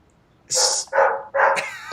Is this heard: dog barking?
yes